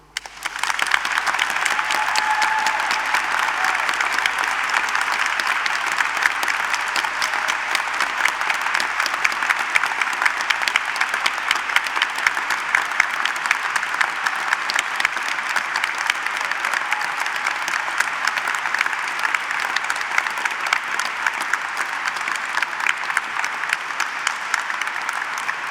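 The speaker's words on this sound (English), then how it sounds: "let's start today's ceremony by giving all our amazing graduates a" Long, steady applause from a large audience for graduates at a degree ceremony inside Ely Cathedral, dense clapping sustained evenly throughout with a reverberant, spacious quality.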